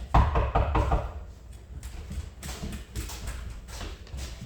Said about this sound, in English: I want him to hear the dog hit the door